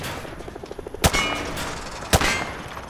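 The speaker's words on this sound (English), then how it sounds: "Grab that weapon off the table and fire at the targets behind you." In Call of Duty Modern Warfare 2, two loud single rifle shots ring out about a second apart at a firing range, each followed by a metallic ringing tail, over a low background murmur.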